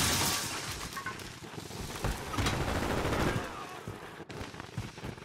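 Enemy gunfire in Call of Duty Modern Warfare 2 during a prisoner rescue mission, dense overlapping bursts of shots cracking around the player, loud and chaotic, with a sharp crack near the end.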